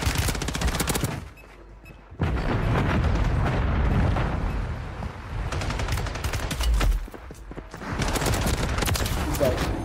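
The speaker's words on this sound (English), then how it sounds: "Friendly mortar strike on the way" Mortar strike explosions pound a Warzone 3 battlefield alongside rapid gunfire, heavy booming blasts and crackling volleys in several loud bursts separated by short lulls, with voices occasionally heard.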